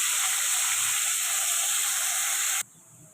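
Pomfret fish frying in a pan of hot oil, a loud steady hiss and sizzle close by that cuts off abruptly near the end.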